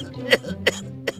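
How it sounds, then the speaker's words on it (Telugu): A man coughs three times in short, harsh bursts spaced about a third of a second apart, close and fairly loud over a low background hum, with no talking. "డాక్టర్ గారు మా నాన్నండి, దగ్గు తగ్గలేకపోతాడు, మీరే దగ్గరుండి దగ్గును తగ్గించండి"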